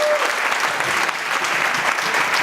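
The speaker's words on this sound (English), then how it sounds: "So give him another round of applause." Loud, dense applause from a crowd at an annual Oscar-themed cancer fundraiser, sustained clapping from many hands at a steady level throughout, with faint voices mixed beneath it.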